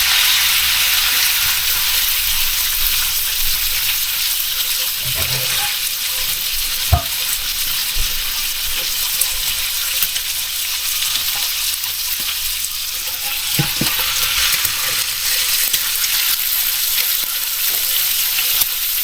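Bacon fries on a griddle with a loud, steady crackling sizzle that carries on without a break, plus a few faint clicks and scrapes along the way.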